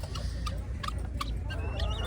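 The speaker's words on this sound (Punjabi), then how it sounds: "ਦੇਖੋ ਮੁਰਗੇ ਦੇਸੀ ਆ" Several short clucking calls from a desi rooster at the Maghi horse fair in Sri Muktsar Sahib, spaced irregularly over steady low outdoor rumble, with faint background voices.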